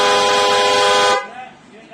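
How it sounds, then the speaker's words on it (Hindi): A loud aftermarket car horn blasts as one steady, harsh honk for just over a second, then cuts off sharply, leaving a quieter background. The horn is close and sounds alone. "इस वाले हॉर्न पे भी चलान होता है, ये हमने अभी आपको चेक कराया।"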